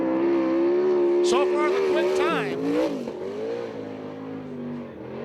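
A USAC/CRA sprint car engine laps a dirt track in Tucson, Arizona, its roar swelling and shifting pitch as it passes, then easing off, with an announcer talking over it.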